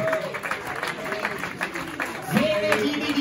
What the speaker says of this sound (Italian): un applauso anche per lui che sta arrivando